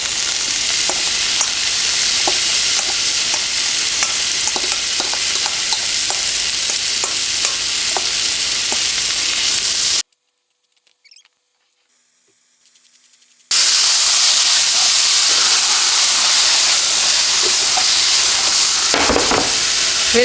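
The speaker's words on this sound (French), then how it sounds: "On est assez chaud, on va mettre les shiitake que j'ai lavés." Shiitake mushrooms fry in hot coconut oil in a pan, giving a loud, steady sizzle and hiss with occasional stirring scrapes. The sound cuts out briefly for a few seconds, then the sizzling resumes at full strength, with no talking.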